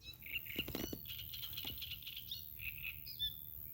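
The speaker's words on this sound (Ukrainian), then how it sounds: "Послухайте, як пташки співають." Birds chirp and tweet faintly in the distance beside a lake, scattered short calls over a quiet outdoor background with a few soft rustles.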